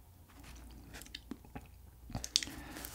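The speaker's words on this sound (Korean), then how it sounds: "성심당의 명란 바게트를 먹어보겠습니다." Someone bites into a crisp pollock roe baguette from Seongsimdang bakery and chews, giving quiet, close crackling crunches that turn into a sharper crunch near the end.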